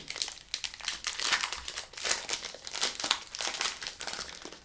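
A KitKat Chunky New York Cheesecake wrapper is torn and opened close by, with repeated bursts of crinkling and crackling plastic in an uneven rhythm and no talking.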